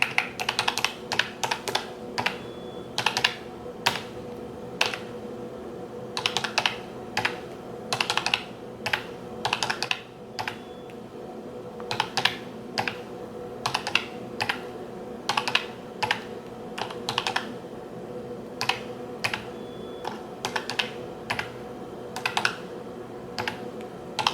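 Quick bursts of calculator key presses, close and moderately loud, arriving in irregular clusters with short pauses between them while no one speaks.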